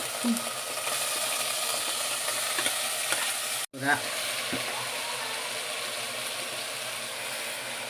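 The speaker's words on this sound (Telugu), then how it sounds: "గోంగూర బాగా ఫ్రై అయిపోయిందమ్మా" Gongura leaves frying in hot oil with green chillies, garlic paste and tomato, a steady close sizzle with the scrape of stirring, briefly cut off for a moment midway before the sizzle resumes.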